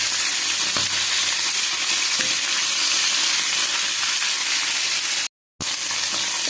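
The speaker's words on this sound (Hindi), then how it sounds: "माछ को बेसी भाजबानी 2-3 मिनिट केवल एपट सेपट टे तेल रे करनेबा।" Hilsa fish frying in hot oil for curry, a steady loud broadband sizzle that fills the whole stretch, broken by one brief cut of silence near the end.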